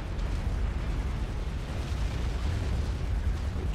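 Dense, continuous rumbling explosions from artillery bombardment in the Supreme Commander real-time strategy game, a loud overlapping roar of blasts with no clear gaps and no talk.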